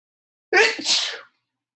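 A single sharp sneeze, close and fairly loud, bursting out then trailing off in under a second, with silence on either side.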